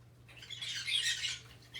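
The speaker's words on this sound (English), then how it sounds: "Please excuse my birds. They're actually having a battle right now." Pet birds squawk harshly during a fight, one short, shrill burst of close, fairly faint squawking over a low steady hum, with no talking.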